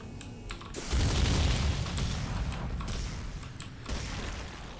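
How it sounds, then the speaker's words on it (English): Shotgun blasts from the first-person shooter Star Trek: Elite Force 2, a loud booming burst with mechanical clatter that holds over a few seconds, no talking. "Ah yes, video game shotguns with a range of 3 meters."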